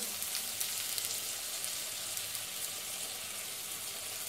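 Onion with ginger paste frying in a pan, a steady bright sizzle crackling close and continuous, with no talking.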